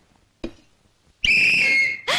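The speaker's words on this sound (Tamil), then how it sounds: "விசில் எனக்கு ரொம்ப பிடிக்கும்." A sharp short tap or clap, a pause, then a loud, steady, high-pitched whistle held for nearly a second before a brief second burst at the end.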